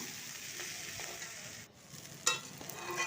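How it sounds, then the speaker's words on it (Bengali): Rice grains fry and crackle in a pan with red chili powder and Kashmiri chili powder, a steady close sizzle broken by the scrape of stirring, with no one talking. "চালটা আমার খুব ভালো করে ভাজা হয়ে গেছে দেখুন"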